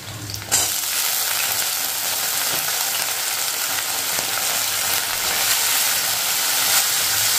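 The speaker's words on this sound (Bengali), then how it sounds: "এই যে আমার খুলে গেছে পেঁয়াজ, এবার আমি দেবো আলুগুলো" Sliced potatoes dropped into onions already frying in hot sunflower oil, with a loud, steady sizzle and crackle that swells sharply at the start and then holds constant and close.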